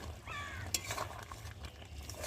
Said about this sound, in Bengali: এখন একটু ধনে পাতা দিয়েছি, তো নেড়ে নেব।